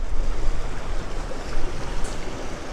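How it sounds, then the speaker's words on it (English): The Grand River flows with a steady broadband rush, loud and close, mixed with wind buffeting, continuous for the whole stretch with no voices. "look at this beautiful river. This is Grand River"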